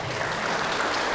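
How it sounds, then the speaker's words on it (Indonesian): Audience applause in a school auditorium in Medan, a short, dense burst of many hands clapping at a steady level. "Tepuk tangan untuk beliau"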